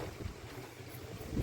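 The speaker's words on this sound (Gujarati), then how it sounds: "પવન એવો છે," Wind gusting outdoors in open air where pigeons are being flown, a steady low rumble buffeting the microphone throughout, swelling into a stronger gust at the very end.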